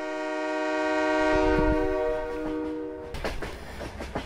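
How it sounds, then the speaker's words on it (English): A train in Farming Simulator 22 rumbles past inside an enclosed space, its horn-like tonal drone sustained and echoing loudly before giving way to rhythmic clattering wheels near the end. "That train echoes in here."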